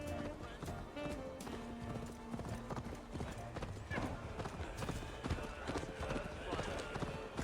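Horse hooves clip-clopping at a gallop in Assassin's Creed Valhalla, a quick steady rhythm throughout with occasional whinnies, mixed under game music and character dialogue.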